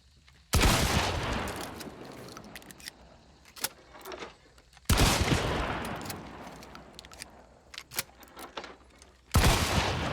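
Three heavy Romero 77 shotgun blasts from Hunt: Showdown ring out a few seconds apart, each a sharp close boom trailing into a long decay, with small mechanical clicks and clinks in between.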